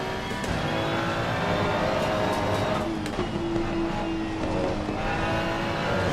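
Race cars drone loudly and continuously around the Valencia circuit in the Assetto Corsa Competizione sprint racing game, engines whining in a steady procession with slight pitch shifts and no break.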